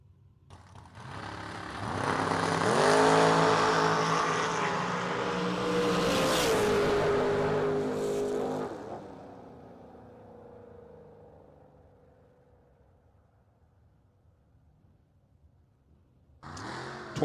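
Drag racing cars, including a Pontiac, launch hard at a vintage drag strip, with rising high-revving engine roar and a faint tire squeal that fade away down the track before another engine barks up near the end.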